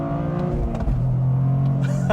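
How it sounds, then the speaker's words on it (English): A 2025 Toyota GR Corolla hot hatch revs hard and launches with a clutch dump, giving loud engine roar and rising revs close by, with brief exclamations from the driver. "you basically dump the clutch and really rev it hard."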